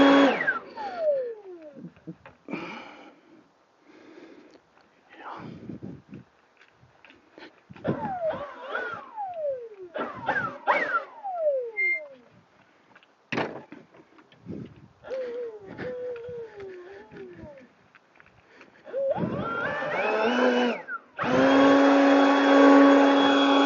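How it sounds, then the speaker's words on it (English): A leaf blower runs near the end, a loud steady motor roar that takes over after a stretch of quieter, scattered outdoor sounds during lawn mowing. "Sounds like the blower's starting to slow down."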